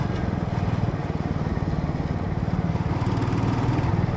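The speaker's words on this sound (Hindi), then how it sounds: "जैसे अभी मैं 5वें गियर पे हूँ, 5 गियर आते हैं इसमें, 5 स्पीड है और 50 पे चल रहा हूँ।" A Royal Enfield Meteor 350 single-cylinder motorcycle cruises in fifth gear at about 50, its engine thumping in a steady, even rhythm close up with a constant wind-blown drone and no speech.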